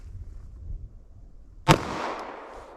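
A single sharp, loud .45 ACP +P gunshot, Speer Gold Dot hollow point, fired into a ballistic gel block, cracking out after a quiet stretch of low rumble and trailing off in a broad echoing decay.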